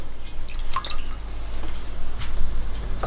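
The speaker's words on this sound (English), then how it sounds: "we're just going to take it out of this water, drain it out" Washed green beans drain as water trickles and drips in scattered, irregular drops over a steady low background hum, close by and fairly quiet.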